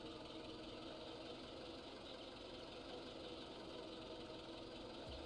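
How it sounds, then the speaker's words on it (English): A truck engine in poor condition runs steadily with a rough, knocking idle, a constant mechanical drone with no talking. "This, truck engine don't sound too good."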